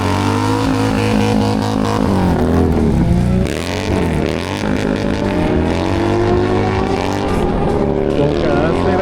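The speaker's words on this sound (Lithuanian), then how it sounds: "Priešininkas iš Vilkų baikerių klubo specialiai dragui ruoštų" Drag-race motorcycle prepared specially for drag racing, accelerating hard at a drag strip; a loud, continuous engine roar with rising and falling pitch through gear changes, close and dominant, with a commentator talking over it.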